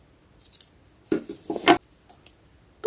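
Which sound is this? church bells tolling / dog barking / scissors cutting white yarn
scissors cutting white yarn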